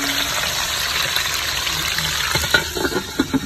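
Pork intestines frying in hot oil, a steady broadband sizzle throughout with a few louder pops and spatters near the end.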